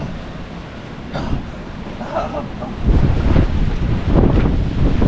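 Strong wind buffets the microphone in rough, swelling gusts that grow louder toward the end, pushing against a door.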